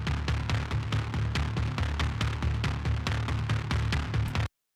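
Pulsing bass from an epic hybrid trailer track, full mix with effects: a steady, rapid throbbing low pulse with sharp percussive hits on top, loud and continuous, stopping abruptly near the end.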